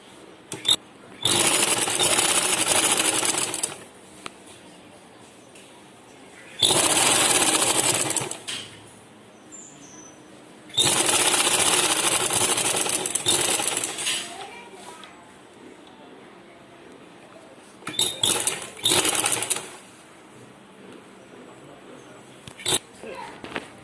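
Sewing machine stitching folded uniform cloth, running in four loud bursts of several seconds each with quiet pauses between, the last burst shorter and choppy; no talk over the machine.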